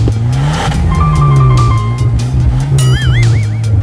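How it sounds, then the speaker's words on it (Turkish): Cartoon car engine revving and pulling away, loud and close, with squeals and swooping whistle-like tones layered over the motor as it drives off. "Aman tanrım bu süper bir araba."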